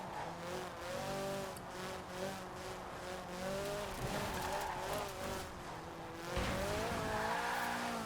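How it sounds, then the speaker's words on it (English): A Toyota race car in Forza Horizon 4 runs at high revs with steady engine harmonics, faint turbo blow-off valve chatter coming and going between gear changes, and the engine note climbing again near the end. "I like the little blow-off valve sounds now."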